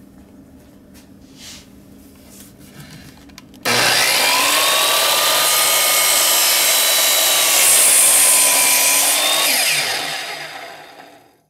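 A chop saw rips through a board cut to length against a baseboard fence, with a sudden loud whining start, a steady close shriek through the cut, then a falling wind-down as the blade slows.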